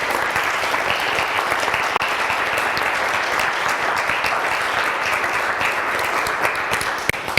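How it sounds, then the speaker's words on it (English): Audience applause for the presenters at the close of an event, a loud continuous roar of many hands clapping evenly throughout, with no voices on top. "Can we just give one final round of applause to all of our presenters?"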